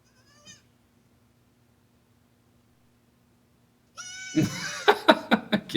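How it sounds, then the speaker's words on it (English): A screaming or fainting goat bleats in a burst of several loud, wavering cries near the end, with a brief faint call at the start and quiet in between. "Screaming or fainting goat."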